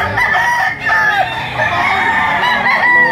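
Several roosters crowing over one another at a crowded auction market in Lipa City, Philippines, loud and close, with overlapping calls and faint clucking.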